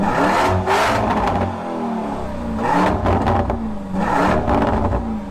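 A family SUV fitted with a Lamborghini Urus-style exhaust revs hard, rising and falling in three surging bursts, close and powerful.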